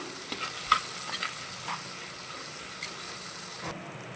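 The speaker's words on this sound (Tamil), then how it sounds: "உப்பு சேர்த்து நல்லா வதக்கி விட்டுறலாம்" Onions sauté with salt in a pan for a prawn and bottle gourd curry, a faint steady hiss with a few light stirring taps, nearby and with no one talking.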